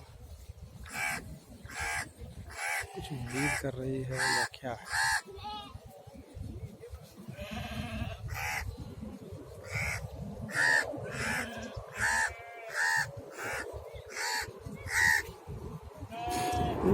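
Crows caw repeatedly in short bursts close by, among sheep and goats of a nomadic Rajasthani herd, with faint bleats mixed in and a voice speaking briefly over the calls.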